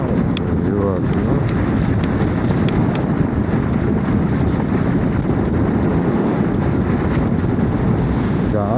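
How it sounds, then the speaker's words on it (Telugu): Strong wind buffets the microphone out at sea near Dhanushkodi, a loud, constant roaring rush filling the whole stretch without pause, with no clear voices. "గాలి బీభత్సంగా కొడుతుంది."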